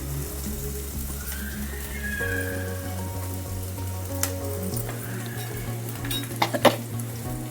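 Onions, garlic and green chilies fry in a pan, an even, rain-like sizzle running over a low steady hum, with a few sharp utensil clinks toward the end.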